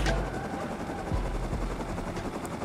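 A helicopter in the video game Rust beats loudly and close with a continuous low rotor thump and engine drone throughout.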